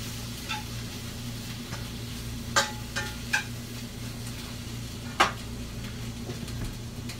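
Banana peppers sizzle in a preheated cast iron skillet over medium heat, a soft steady hiss broken by a few sharp pops and light utensil taps, close by and without talk.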